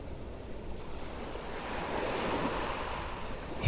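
Ocean waves washing up over the shore, a continuous soft rush of surf swelling louder toward the end, with light wind buffeting.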